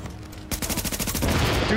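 Automatic gunfire erupts abruptly in a Tom Clancy's The Division firefight, a fast burst of close shots that blurs into a dense, overlapping fusillade, loud and continuous to the end.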